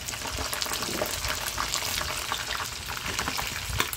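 Vegetables and fish for Ilocano-style pinakbet are sautéed in a pan, giving a loud, continuous crackling sizzle with frequent spatters and stirring scrapes throughout.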